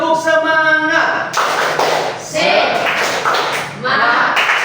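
A classroom of junior high students in Merauke claps out a rhythmic cheer chant together, with quick bursts of hand claps in a steady pattern mixed with voices chanting along at close range.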